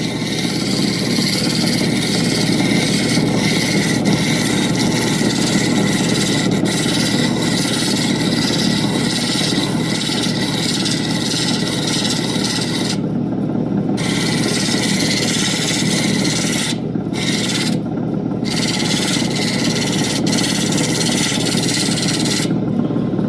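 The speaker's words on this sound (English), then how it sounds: "polishing wheel" A polishing wheel buffing Coober Pedy opal jewellery, rings and earrings, gives a steady close whirring drone with a rubbing grind that runs unbroken for the whole stretch, dipping only for brief moments.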